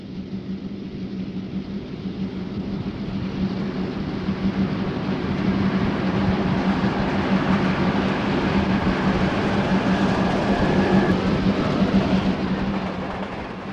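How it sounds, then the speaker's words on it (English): An RF&P freight train from 1972, hauled by two E8 diesel locomotives, rumbles past in a steady, continuous roar that swells slightly and stays loud throughout, with no talking. "This scene is in 1972, with two E units used on this freight train."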